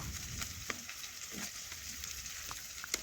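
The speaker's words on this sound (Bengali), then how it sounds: "কড়াইয়ের মধ্যে তেল দিয়ে পেঁয়াজ কুচি দিয়ে দিয়েছি" Chopped onions frying in oil in a kadai, a faint continuous hiss with a few light taps, heard from close by.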